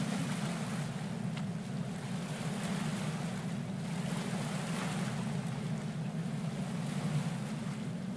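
A ship ploughs through rolling waves in the Stormworks game, with a steady, loud roar of surf and water rushing against the hull alongside wind noise, continuous and close throughout.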